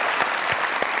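Dense, loud audience applause at a comedy show welcoming a poet on stage, steady clapping filling the whole moment with a few sharper bursts, no voices on top.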